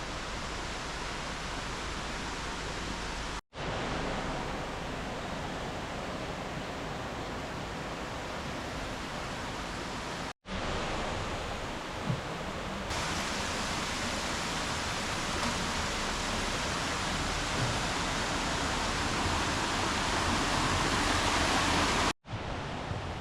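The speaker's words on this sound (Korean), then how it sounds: "덕분에 백년사까지는 계속 물소리가 함께합니다." A mountain valley stream at Deogyusan flowing beside a forest trail, a loud, steady rush of water that fills the whole stretch, broken only by a few brief cuts.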